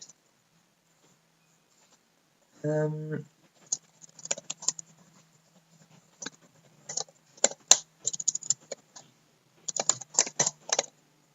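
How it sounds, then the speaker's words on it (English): Typing on a computer keyboard: after a short beep-like tone, bursts of quick close key clicks come in uneven runs with pauses between, crisp and near in a quiet room. "I first have to type it."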